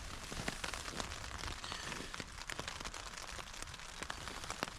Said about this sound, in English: It's 6 o'clock and the rain started.